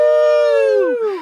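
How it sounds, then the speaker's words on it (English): A dog howls loudly and close by at midnight in woods near a tent on New Year's Eve, one long wavering howl that bends downward and trails off into a whimper. "Sorry about the barking dogs if you guys hear that."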